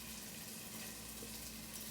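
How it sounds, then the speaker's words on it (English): Homemade egg rolls, about eight at a time, frying in hot oil give a steady, even sizzle and crackle that holds at a constant level without a break, with no voices over it. "basically I put about 8 of these in the oil, and it's still sizzling"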